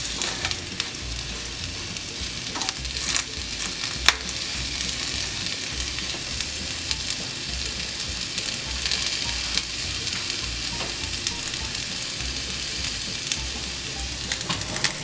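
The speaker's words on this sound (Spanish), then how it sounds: "Pondremos a tatemar nuestros cuajillos, nuestros dientes de ajo y nuestro cuarto de cebolla." Guajillo chiles, garlic cloves and a quarter onion roast on a hot pan, giving a steady, even sizzle and crackle with occasional small pops, close and alone for the whole stretch.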